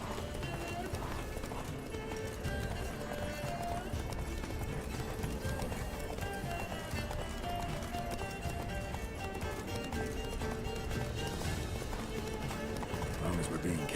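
Geralt's horse Roach gallops in The Witcher 3 with a dense, continuous clip-clop of hooves and occasional whinnies, set under a busy game soundtrack with people talking over it.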